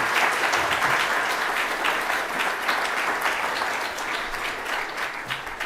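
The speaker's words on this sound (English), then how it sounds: "A round of applause for Councillor Arooj, Shah, please." Sustained audience applause for a councillor at a Greater Manchester development update event, steady and full throughout with no speech over it, easing slightly toward the end.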